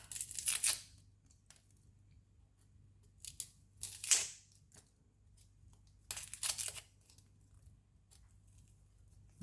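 Small onions are peeled by hand after their ends are trimmed, with a few short bursts of crisp tearing and crackling papery skin separated by quiet pauses.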